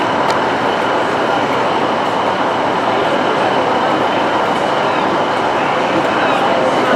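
A Great Western Railway HST train departs Plymouth station with a steady, broad rumble and rail noise, loud and close, continuing evenly without clear pauses.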